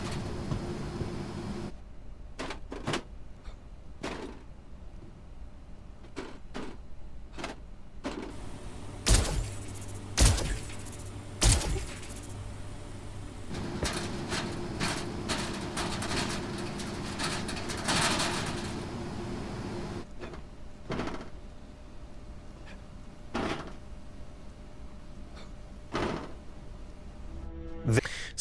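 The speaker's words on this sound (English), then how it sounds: "So that was a few examples of the character jumping up and down on grates." Video game character jumping up and down on metal grates in various environments: a series of sharp clanking metallic footfalls and thuds, scattered irregularly over a low background, some louder impacts in clusters, with occasional quiet game ambience.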